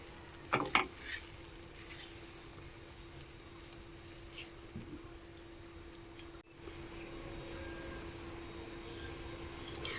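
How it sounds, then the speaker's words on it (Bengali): A spoon stirs ginger-garlic paste in a pan for a home-style egg curry, giving a few soft scrapes over a steady low sizzle and faint kitchen hum, with no one speaking. "1 চামচ আদা রসুন বাটা দিয়ে দেবো, নিয়ে নাড়াচাড়া করব।"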